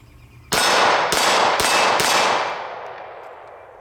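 Four 9mm Lehigh Xtreme Penetrator rounds strike an AR-500 steel plate in quick succession, each a sharp metallic clang, with the ringing slowly dying away afterward.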